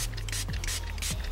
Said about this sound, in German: jetzt nehme ich mir die Flüssigkeit 2 und sprühe die hier relativ großzügig einmal